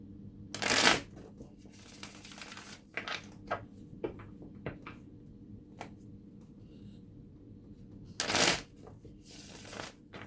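Tarot cards being riffled and shuffled, with two loud bursts of riffling and softer taps and slides in between, close up and without talk.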